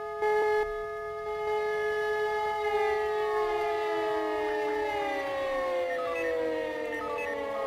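A civil defense siren in the firefighting game Emergency 4 wails steadily with layered harmonic tones, its pitch gliding slowly downward in a long howl that fills the whole stretch without talk.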